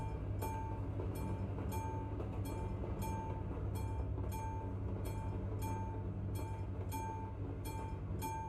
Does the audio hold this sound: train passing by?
yes